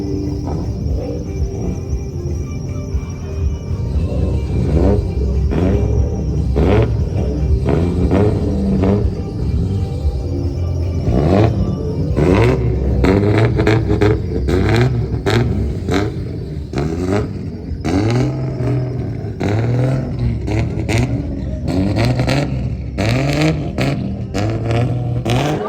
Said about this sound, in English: A couple cars have started up.